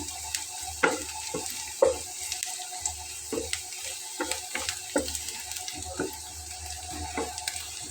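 Nigella seeds (kalo jeera) frying in a pan for a Bengali okra and poppy seed dish: a light sizzle over a running-water background, broken by sharp spoon knocks and clatters.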